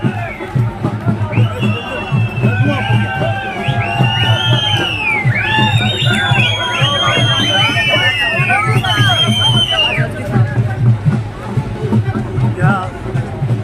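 A large, dense crowd gathering at a public political rally in Mendhar, loud and close, with continuous hubbub, rising shouts, whoops and cheering voices layered together for the whole stretch.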